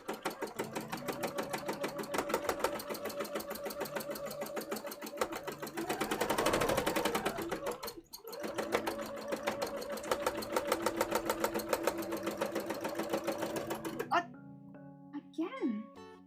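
A sewing machine stitches orange fabric for a cosplay, running as a loud, steady, fast whir that dips briefly midway, then stops near the end, where a voice is heard.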